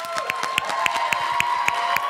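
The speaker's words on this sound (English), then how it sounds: "let's give them a real big round of applause" Audience clapping and some cheering at a medical prep school event, steady applause from a crowd with sharp individual claps standing out, moderately loud throughout.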